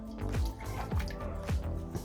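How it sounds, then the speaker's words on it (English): Water poured into a bowl of 750 grams of strong bread flour, a close, continuous gurgling pour with repeated bubbling glugs from the liquid stream. "I'm gonna put the 500 milliliters of water in"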